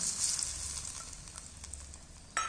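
Hot tempering of cumin, mustard seeds, chilli and curry leaves poured into a semolina breakfast mixture, giving a loud hissing sizzle that slowly fades, then a sharp clink near the end.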